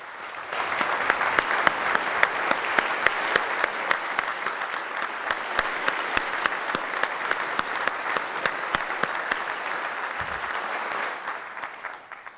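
A large seated audience bursts into sustained applause and cheering for an honoree during the Illinois governor's State of the State address, steady dense clapping filling the hall for about eleven seconds before fading out.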